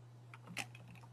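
Typing on a computer keyboard: a quick burst of soft key clicks, close and faint, over a steady low hum.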